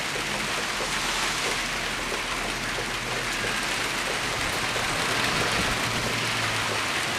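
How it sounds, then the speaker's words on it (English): Steady rain from an ex-cyclone falls outdoors over grass, a dense, even hiss of drops that continues unbroken and fairly close throughout, with no voices. "we have been getting a lot of rain recently"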